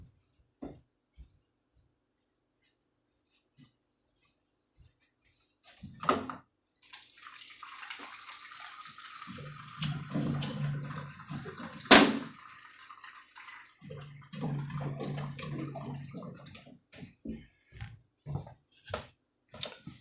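Water runs from a tap in a home setting, starting after a quiet stretch and flowing steadily with splashing and drips, close and moderately loud, with a louder clatter partway through.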